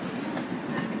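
A locomotive-hauled train, class 39151 in business livery, pulls away from Manchester Piccadilly station, giving a steady close rumble of wheels and engine noise with no voices over it.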